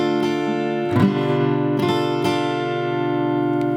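Acoustic guitar plays the next measure of a song, a few slow strums with chords left ringing and sustaining, close and clear with no voice over it.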